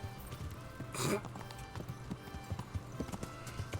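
Horse hooves in Kingdom Come: Deliverance clip-clop in a steady rhythm at moderate distance as the horse approaches, with a brief louder snort or whinny near the start over a low background hum.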